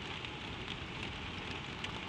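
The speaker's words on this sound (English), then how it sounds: "you listen to the rain settle in" Steady rain falls on a tin roof over an attic bedroom, a soft, even hiss of countless drops with faint scattered taps and no pauses.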